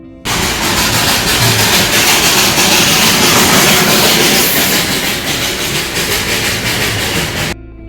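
Darjeeling toy train at Ghum railway station heard close and loud, a steady mechanical rumble with rattling clatter that starts abruptly and runs continuously before cutting off.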